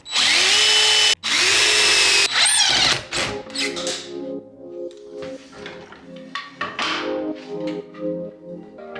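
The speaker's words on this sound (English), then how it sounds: "now I can drill holes and put screws in" A power drill whines loudly in two sustained bursts while drilling screw holes in a cabinet face, followed by quieter clunks, taps and handling noises with some tonal music-like sounds beneath.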